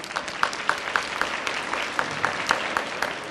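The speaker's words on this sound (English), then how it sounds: "So I think that deserves an applause right there." At a volunteer recognition luncheon, a modest audience applauds, with a handful of crisp nearby claps rising above a softer, steady patter of clapping from the room.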